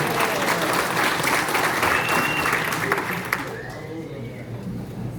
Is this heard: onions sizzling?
no